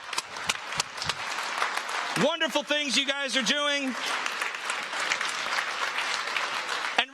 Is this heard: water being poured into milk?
no